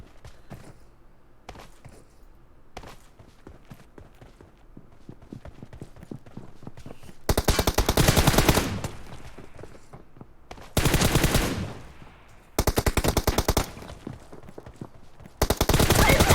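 Bursts of automatic gunfire from the PUBG Mobile battle-royale game in a competitive match, several loud sustained volleys in the second half after quieter clicking footsteps.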